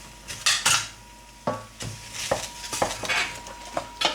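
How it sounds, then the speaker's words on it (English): A utensil stirs pasta in a metal pot, scraping and clanking against the sides in irregular, close, fairly loud knocks, with no talking. "Stir so it doesn't get bad"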